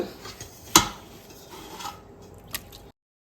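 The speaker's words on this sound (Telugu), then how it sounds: "సో దీన్ని ఇంకో గిన్నె షిఫ్ట్ చేసుకుందాము" Biryani gravy being moved into another pot for a 20-litre chicken fry piece batch, with metal scraping and rubbing, one sharp clank of a utensil against the pot and a fainter knock near the end, then silence.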